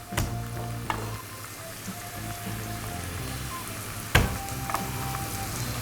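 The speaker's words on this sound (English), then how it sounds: "I want to caramelize these, but I'm stirring constantly because I don't want to burn them" Vegetables sizzling and caramelizing in a frying pan while being stirred constantly for a homemade beef chili, a steady close crackle with a sharp clatter of the utensil near the start and another around four seconds in.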